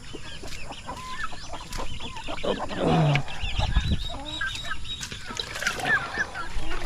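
Thirsty chickens and chicks clucking and calling on a farm, with geese nearby, a busy overlapping flock chatter of clucks, peeps and honk-like calls at close range throughout.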